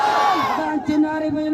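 Large protest sit-in crowd chanting loudly in unison in response to Naara-e-Takbeer, a sustained roaring shout of many voices close and reverberant.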